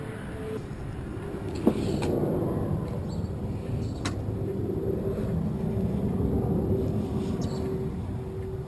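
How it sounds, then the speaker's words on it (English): Military fighter jet flying overhead near Tinker Air Force Base, a steady broad roar that holds at the same level throughout, with a brief click partway through. "So that sounded like a fighter overhead."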